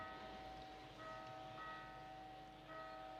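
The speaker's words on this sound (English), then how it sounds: "Got some bells going off in the background" Church-like bells ringing in the background of the game Lost Sphear, several sustained metallic tones struck in a slow repeating pattern, faint and distant over a quiet ambient bed.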